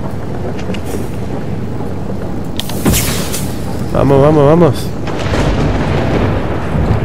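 A thunderstorm in the video game Far Lone Sails: steady wind-like rumble with one sharp, loud boom of thunder partway through, and a voice briefly calling out over the storm noise.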